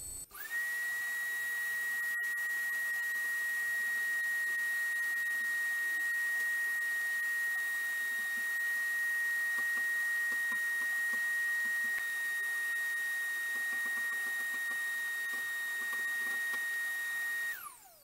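An Ulmia dust extraction system runs as a loud, steady, high whine and rushing airflow, starting abruptly and holding evenly for about seventeen seconds before spinning down.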